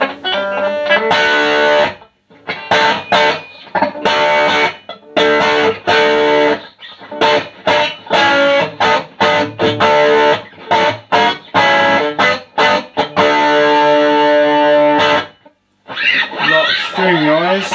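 Heavily distorted electric guitar blares through a Marshall Studio 15 amp with gain all the way up, in choppy bursts of chords and notes, harsh and buzzy, with short pauses between phrases.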